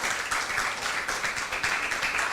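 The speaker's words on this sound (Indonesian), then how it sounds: "Kita berikan tepuk tangan yang meriah." Studio audience of university students claps energetically, a dense, continuous round of applause close by, lasting a couple of seconds without voices.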